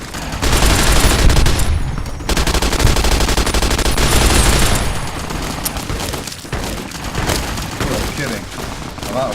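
Rapid gunfire and bursts from Fallout: New Vegas combat, loud and near, with dense overlapping shots and booms running almost without pause and a voice speaking over parts of it.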